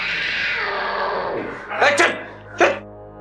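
A cat meows in a Hindi drama scene, two short loud cries close to the listener after some steady background sound, with speech-like noise around them.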